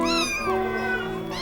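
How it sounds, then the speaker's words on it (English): Several cats howling together in an inn yard in Mousehole, Cornwall, a sustained wavering chorus of meows sounding close and loud throughout. "the cats of Mousehole gather and raise a great howling"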